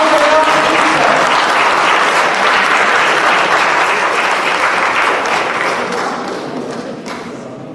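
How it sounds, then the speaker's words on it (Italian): An audience at an Italian event for the Miss per Sanremo pageant applauds a director, with loud, dense clapping and scattered thumps that slowly fade toward the end. "Prego, applauso per la nostra regista."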